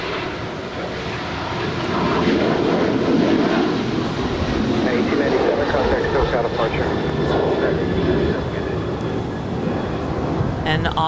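An eight-year-old United Boeing 737-900ER airliner on approach to land at LAX gives a steady jet engine roar that swells and holds, with talk over it.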